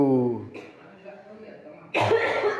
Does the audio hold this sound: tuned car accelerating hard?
no